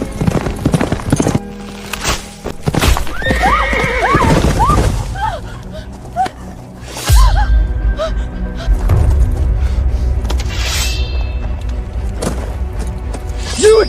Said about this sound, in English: Fetch me a horse!